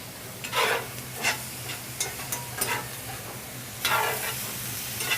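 Chicken sautés in a hot pan, a soft steady sizzle broken by several scraping stirs and a louder hiss near the end, heard alone without voices.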